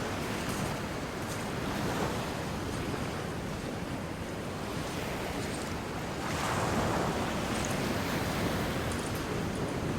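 Sea waves surge and crash inside a coastal sea cave on a rugged shoreline, a continuous loud roar of churning water and spray with rising swells, mixed with wind noise on the microphone and no voices.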